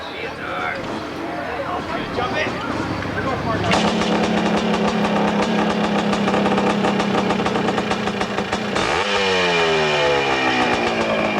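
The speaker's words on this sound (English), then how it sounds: "Running an older air-cooled Kawasaki" Older air-cooled Kawasaki motorcycle engine at an AMA hillclimb in Monson, Massachusetts, first idling unevenly, then revving hard into a loud sustained roar before the pitch shifts as it pulls away, with an announcer talking over it.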